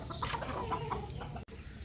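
Chickens clucking in a backyard farm pen while waiting for food, several overlapping clucks close by in a steady run, with a brief dropout near the end.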